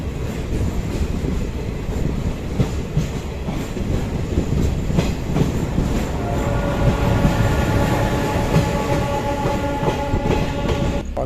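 A Darbhanga–Saharsa passenger train rolls along the rails, giving a steady, loud rumble with faint clickety-clack and a little wheel squeal throughout, and no one speaks.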